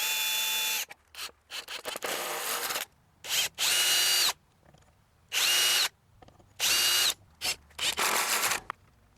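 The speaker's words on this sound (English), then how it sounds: "Use my self-centering drill bit. Makes it a lot easier for hinges." Short bursts of a power drill with a self-centering bit drilling hinge holes on a garden gate, stopping and starting several times, loud and close with quiet gaps between runs.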